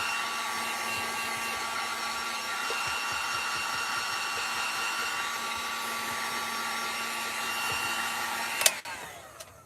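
A hair dryer blows steadily and close over freshly painted wood pieces, a constant whine for several seconds before it clicks off near the end.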